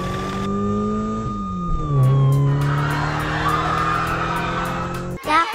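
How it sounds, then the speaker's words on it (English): A police car siren wails in a steady sustained tone that bends downward, joined by engine and tyre-skid noise, then cuts off abruptly near the end. "It's a police car."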